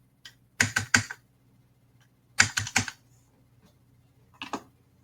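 Three short bursts of typing on a computer keyboard, each a quick cluster of crisp close clicks separated by silence.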